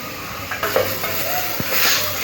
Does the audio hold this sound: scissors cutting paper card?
no